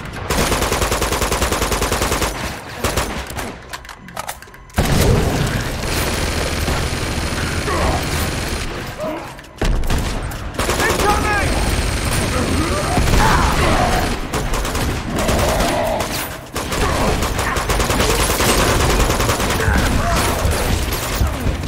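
Sustained bursts of automatic gunfire and scattered shots fill a shootout in the Uncharted 2 Among Thieves Remastered video game, loud and dense with brief lulls and booming impacts mixed in.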